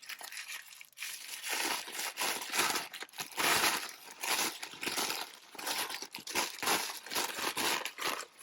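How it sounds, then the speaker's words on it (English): Wet paper coated in fluid acrylic paint is crumpled by hand, producing continuous close crinkling and crackling in uneven bursts over several seconds, with no voices. "And then for this one, I'm going to crumple it."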